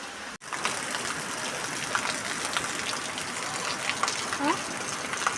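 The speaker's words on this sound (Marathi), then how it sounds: "पाऊस चालू झाला आहे." Rain falls outdoors as a steady, even hiss and patter that fills the whole stretch at low to moderate level, with a few faint tonal sounds near the end.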